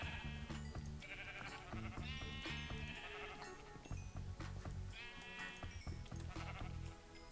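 Sheep in the Minecraft video game bleat over and over, several animals calling in quick overlapping bursts at steady loudness, with no talking.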